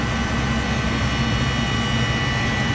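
A walk-in freezer fan motor struggling to start, its failing capacitor or run windings giving a loud, steady, roaring hum that holds unbroken for the whole moment.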